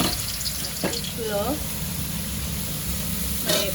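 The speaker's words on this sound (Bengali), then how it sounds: "মেরিনেট করা চিকেন তেলের ভেতর দিয়ে এখন ভেজে নিতে হবে" Marinated chicken pieces frying in hot oil in a home kitchen, a steady close sizzle with a couple of brief utensil knocks, while a voice speaks over it.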